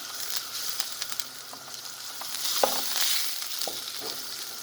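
Butter for butter shrimp sizzles in a frying pan, a soft, steady crackle with scattered small pops and occasional clinks, close but fairly quiet.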